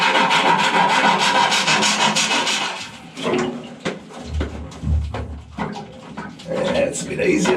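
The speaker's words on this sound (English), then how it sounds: "5 minutes of filing will make this a much easier job" Hand file rasping a conduit hole on a boat during a Raymarine Axiom Pro chartplotter install, rhythmic scraping strokes up close with a few pauses and some low thumps.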